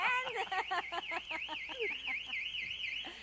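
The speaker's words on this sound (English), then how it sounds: "Let me just hit that alarm, and that alarm's going to go off." Loud 90-decibel home security device alarm wailing with a rapidly warbling, cycling tone, close by and continuous, with a voice briefly underneath.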